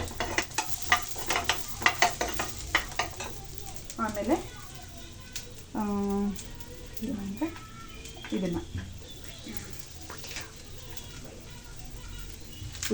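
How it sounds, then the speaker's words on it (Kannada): Egg biryani masala frying in a pan on a raised flame gives a steady sizzle with scattered stirring clinks, while bird coos and harmonic calls rise over it midway. "ಚೆನ್ನಾಗಿ ಫ್ರೈ ಮಾಡ್ಕೋಬೇಕು ಸ್ವಲ್ಪ ದೊಡ್ಡ ಮಾಡ್ತೀನಿ ಫ್ಲೇಮನ್ನು"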